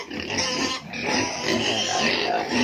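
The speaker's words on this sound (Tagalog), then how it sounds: "bisitahin natin yung mga biik" Piglets in a crowded farm pen grunting and squealing together, a loud, continuous, close chorus of oinks with no clear pauses.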